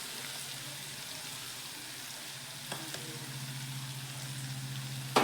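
A boiled egg bhaji fries with spices in a pan, making a soft, steady sizzle with a couple of light scrapes and taps from stirring near the end. No one speaks.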